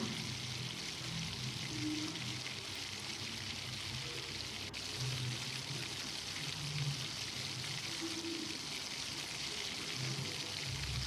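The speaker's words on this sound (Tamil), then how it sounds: "தக்காளியை நல்லா பேஸ்ட் மாதிரி வதக்கிக்கலாம்" Tomatoes with salt sauté in a pan for biryani, a faint, even hiss of gentle frying that runs steadily throughout with little variation.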